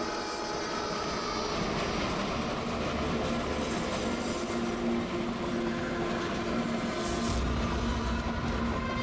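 A train entering a tunnel gives a steady, loud, enclosed rumble with a droning metallic whine that swells slightly toward the end, with no voices.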